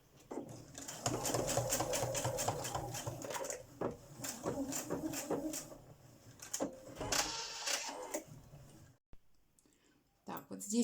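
A sewing machine runs in bursts, stitching a denim bag with a rapid mechanical clatter that stops and starts. Faint rustling follows a short pause near the end.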